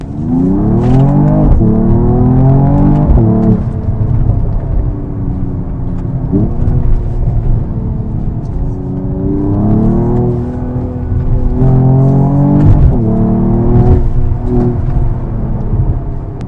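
A two-ton Mercedes-AMG GT 43 accelerates hard on the road, its engine note climbing repeatedly through the gears in rising sweeps, loud and close with a steady rumble underneath and no talking.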